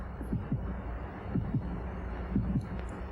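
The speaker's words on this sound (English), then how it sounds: "I can hear my heart beating." Heartbeat sound effect in a film, a steady series of soft low thumps in paired beats, repeating evenly over a faint hum.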